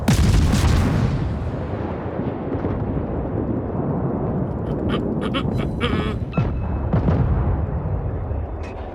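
Big naval guns firing from a warship in the World of Warships game, heavy booming reports layered over a loud, constant rumble of engine and sea noise, with scattered sharper cracks and bangs in the middle.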